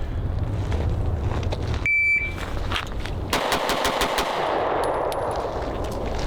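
Concealed carry pistol fired at an outdoor range during training: a cluster of sharp, close shots in quick succession over a steady background rumble, with a brief beep tone heard earlier and no talking.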